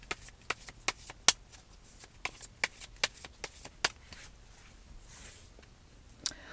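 Tarot cards being shuffled and drawn: a series of crisp, close card snaps and flicks at an irregular rhythm, faint and quiet, with a soft rustle near the end.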